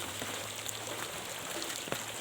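Rain from tropical storm Sonca falling steadily on surfaces near a hill, a dense even hiss of drops close by, no voices.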